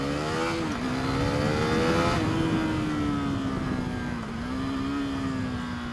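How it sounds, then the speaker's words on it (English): A KTM Duke 390 motorcycle with a 375cc single-cylinder engine pulls hard on a test ride, its steady loud drone rising and holding pitch with a brief dip before climbing again, close-up over wind rush. "This little 375cc single, great little motor."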